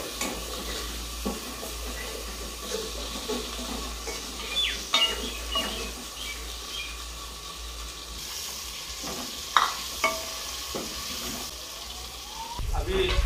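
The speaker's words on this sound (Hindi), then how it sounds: "तड़का लगाएंगे।" Quiet sizzling of spices tempering in hot oil in a pan, with occasional clinks and stirring scrapes, the frying growing louder at the end.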